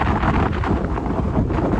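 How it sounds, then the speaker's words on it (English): Strong wind roars continuously against the microphone on the Italian Riviera coastline, a loud, steady buffeting rumble with no voices. "It is really windy!"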